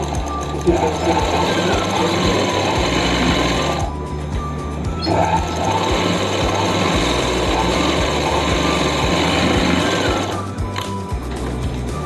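A sewing machine runs steadily, stitching the 1-inch folded hem on the second leg of a palazzo pant, with two short pauses in the continuous whir.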